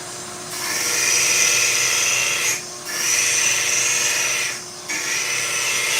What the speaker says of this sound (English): I'm actually gonna grind off this angle.